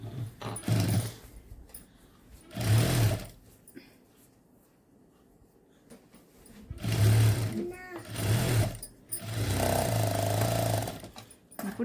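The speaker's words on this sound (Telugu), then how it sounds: "ఇట్లా స్టిచ్ చేసేసుకోవాలి." A sewing machine stitches a folded fabric piece with hooks attached, running in several loud bursts of a few seconds each separated by pauses, while a person talks quietly in the gaps.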